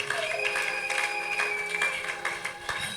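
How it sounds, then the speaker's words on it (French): Church congregation applauding in praise, a dense steady wash of clapping with crowd noise and faint voices mixed in throughout. "Acclamons pour la gloire de notre Dieu."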